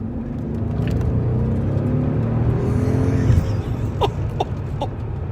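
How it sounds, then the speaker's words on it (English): A Mercedes CL65 AMG with a V12 engine accelerating hard, heard from inside as a loud, steady low engine roar building for several seconds, then easing, with a few brief clicks or thumps near the end. "The thing about the acceleration in this car is it doesn't happen like in an STI where you floor it"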